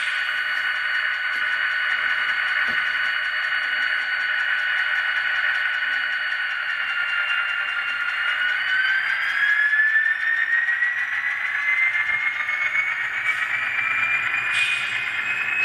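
Scale Trains EMD GP30 #844 model locomotive straining under a pull test, a steady high motor whine with sliding tonal lines as the pitch shifts, close and continuous with no talking.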